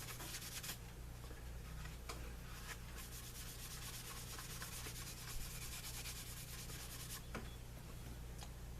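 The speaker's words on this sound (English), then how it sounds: "Give it another buffing." Cloth rubbing steadily over a top-coated leather holster, a faint continuous soft buffing hiss with a few sharper scuffs and a low background hum throughout.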